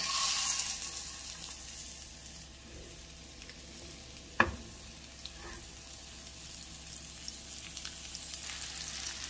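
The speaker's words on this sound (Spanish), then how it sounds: "cuando esté bien caliente vamos a poner el lomo para sellarlo" Pork loin searing in hot rendered bacon fat in a wide frying pan, a steady even sizzle with one sharp clank midway and light crackles over the rest.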